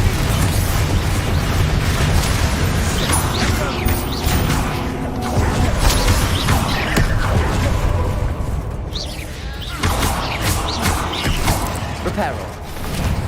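Explosive Confringo and Bombarda spell blasts from the video game Hogwarts Legacy, a dense, continuous wash of booms, bursts and crackling impacts over a busy game soundscape.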